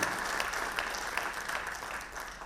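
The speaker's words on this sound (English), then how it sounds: "Can we have a round of applause for that, for all of you for being present with us here?" An audience at a mechanical engineering summit opening address claps steadily in a dense, even round of applause that holds for the whole stretch with no voices over it.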